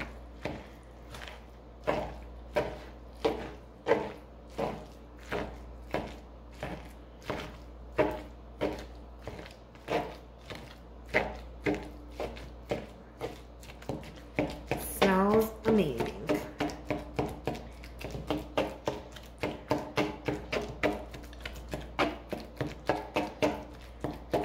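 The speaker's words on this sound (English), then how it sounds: "I'm gonna get my handy dandy little tenderizer thingy here, and I'm just going to mix" A meat tenderizer mashing food for a nacho bar, steady repeated thudding strikes about once a second, quickening into a denser run of faster blows near the end, close and fairly quiet, with a brief voice midway.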